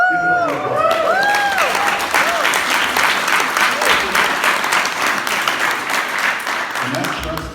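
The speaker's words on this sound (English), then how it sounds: "Give it up for applause." Loud, dense crowd applause at a political endorsement event for a state representative candidate, sustained clapping from many hands filling the whole stretch, with cheering whoops rising over it early and voices underneath.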